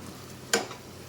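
Boiled-egg curry in a garlic chili masala is stirred in a pan, giving one short scraping sizzle burst against an otherwise quiet background.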